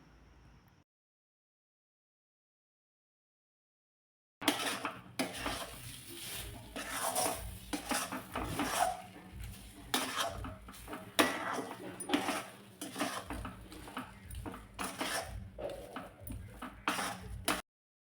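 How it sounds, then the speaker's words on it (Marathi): Moong dal kachori filling, seasoned with salt, amchur and garam masala, is sautéed in a pan: a steady, noisy scrape of stirring with scattered clinks, which begins after a few seconds of near silence. "पुन्हा एकदा मी चांगलं हे परतून घेतलेलं आहे"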